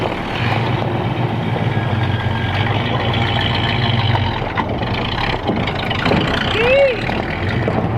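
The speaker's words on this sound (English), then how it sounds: "Dad's truck is moving on its own. It's running pretty good. It's idling" A 1972 Chevrolet C10 truck idles steadily near a shop, a continuous low rumble that stays loud and close, with people talking over it partway through.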